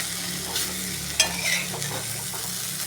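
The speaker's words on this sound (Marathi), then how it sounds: "पुन्हा एकदा आपल्याला असं हलवून घ्यायचं आहे, जेणेकरून मॅगी मसाला सगळीकडे लागेल" A spoon stirs okra coated in Maggi masala in a pan, giving soft scraping sweeps over a low steady sizzle, with one sharper clink partway through and no talking.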